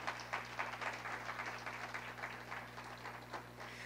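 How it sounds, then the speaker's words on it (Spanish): Quiet congregation applause in a church service, steady rapid clapping from many hands held at low volume over a constant hum. "Denle un aplauso al Señor por eso."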